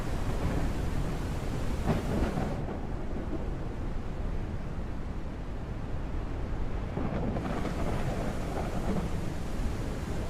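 Thunder rolls deep and heavy through a dense wash of rain in the fantasy game Forsaken Realms. A muffled stretch in the middle sounds as if heard from indoors, and then the full storm returns loudly.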